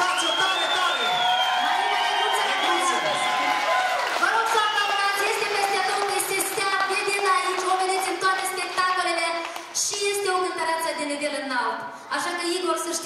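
A concert audience cheers and applauds, loud crowd noise and whoops mixed with singing and music carrying on throughout.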